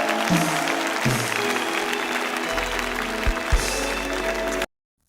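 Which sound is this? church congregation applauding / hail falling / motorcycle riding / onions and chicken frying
church congregation applauding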